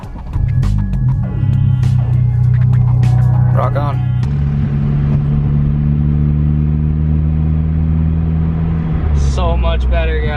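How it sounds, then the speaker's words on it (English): A BMW F30 with a BOOTMOD3 tune cranks and fires up, its engine revving up and settling into a steady, close idle, with a short spoken exclamation near the start and another rev near the end. "and then we're gonna go ahead and start the car."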